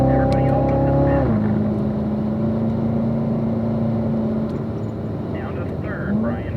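A car lapping the Spring Mountain race track holds a loud, steady engine drone that drops sharply in pitch as it shifts gears, then climbs again near the end, with faint voice sounds underneath.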